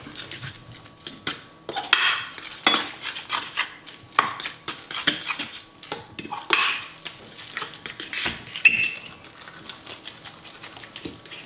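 A utensil stirs haddock brandade in a bowl, giving a busy run of close scraping and clinking against the bowl's sides. Sharper clatters come at intervals throughout, with no talk.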